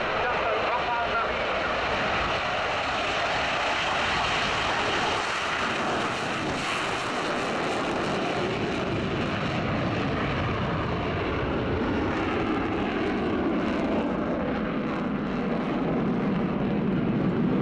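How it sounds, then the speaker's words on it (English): Aircraft at the Yeovilton air show, a loud continuous broadband engine roar that holds steady throughout, rising slightly in the middle and easing toward the end, with no talking. "now this is a beautiful aircraft filmed at Yeovilton"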